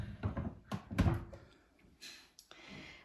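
A drawer sliding open on a baby changing table, with a couple of wooden knocks and a rumbling slide followed by lighter clicks and rustles, close by and with no voices.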